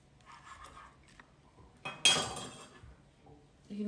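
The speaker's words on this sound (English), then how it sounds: "I'll start one of my pots on the stove" A metal cooking pot is set down on a home kitchen stove with one sharp clanging knock and a ringing tail, amid faint kitchen shuffling while bacon pasta is prepared.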